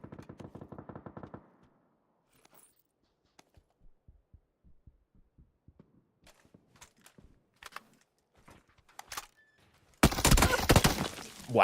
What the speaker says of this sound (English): There's full auto MP5 suppressed fire from the north.